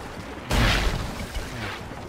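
A cannonball slamming into a ship in the Sea of Thieves video game, a sudden loud booming impact that rolls into a rumbling, crackling tail with a smaller thud after it.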